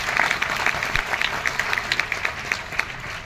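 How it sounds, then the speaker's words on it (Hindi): Audience clapping at a motivational leadership meeting welcoming new guests, a steady patter of many hands throughout with no clear break. "तालियों के साथ वेलकम करना चाहूंगा"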